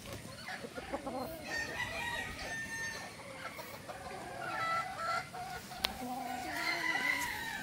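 A Boston straight comb gamefowl rooster crows and clucks at a moderate distance in an outdoor pen, with several crowing calls over a faint background and no speech.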